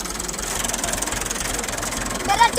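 A tractor engine idling close by on a village farm, giving a steady, rapid low knocking throb that continues evenly throughout.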